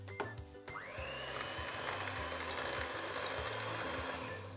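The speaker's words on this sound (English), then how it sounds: "And whisk away." Electric mixer whisking cream with vanilla bean paste and sugar, a steady motor whir that runs continuously and fairly loud after a brief start, with uneven low rattling underneath.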